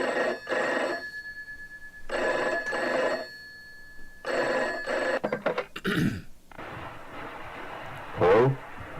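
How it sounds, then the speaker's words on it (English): Telephone bell rings in three clear double-burst cycles, loud and close, followed by brief handling clatter and a rustling noise. "Answer the phone."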